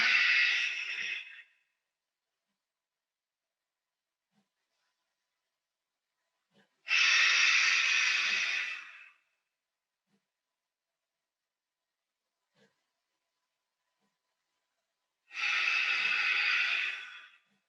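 Slow, deep breaths during a guided breathing exercise, three long airy exhales separated by several seconds of silence, close and clear with no talking.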